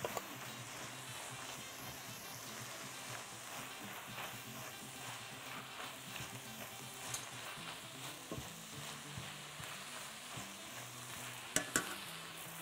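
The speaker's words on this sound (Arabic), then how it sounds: "وهنزل المشروم دلوقتي كمان معاهم، كله يستوي كده مع بعض." Mushrooms fry with other ingredients in a pan for a chicken and Cajun pasta dish, giving a steady, close sizzle with occasional utensil scrapes and clacks as they are stirred. No voices are heard.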